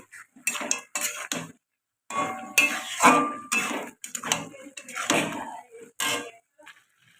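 Loud metallic clanks and rattles of a cooking pot and its lid in a home kitchen come in quick clustered bursts with short silent gaps between them.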